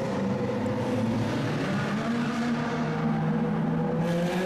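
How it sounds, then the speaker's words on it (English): Loud supercars, including a Lamborghini Aventador, drive in convoy through the Monaco tunnels, a continuous droning engine roar with sustained tones echoing and shifting slightly as the cars move along. "Epic convoy through the Monaco tunnels with some insanely loud supercars."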